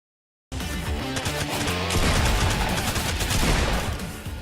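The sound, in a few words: gunfire in the video game Fortnite Battle Royale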